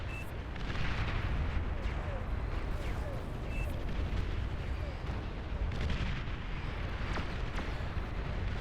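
Artillery shells from cruise missile ships in the strategy game Beyond All Reason, a dense barrage of booming impacts and rumbling blasts that keeps going steadily throughout.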